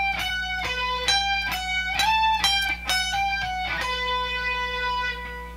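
Electric guitar plays a slow, melodic solo phrase from a song, with clear picked and legato notes ringing one after another over about five seconds, alone and without talk.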